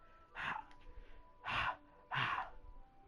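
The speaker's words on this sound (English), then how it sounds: "A sharp inhale like someone sucking air through their teeth." Three sharp, breathy inhales, like air sucked through clenched teeth, in a Doki Doki Literature Club horror visual novel scene. They come close and isolated, in an uneven rhythm with quiet gaps between.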